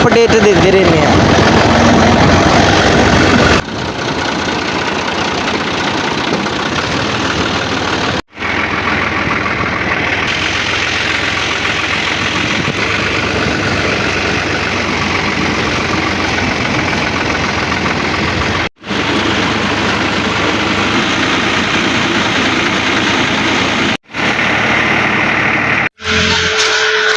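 A tractor engine runs at idle, loud and close, with a steady rough drone that cuts out briefly a few times. The tractor has a starting fault and needs a push start at a repair shop, and voices can be heard now and then.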